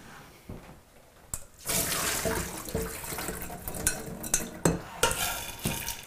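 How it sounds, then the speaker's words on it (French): Water rushes and splashes as beans are poured into a colander to drain, with clattering and rattling over a steady drain of running water. "Je vais égoutter mes haricots."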